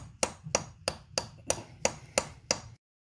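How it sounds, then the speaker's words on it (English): Eight sharp metallic hammer strikes on a nut of a 1993 Mazda RX-7 FD transmission ring out at a steady pace, each a crisp bang with a brief ring, close and fairly loud, then silence. "bang it with a hammer"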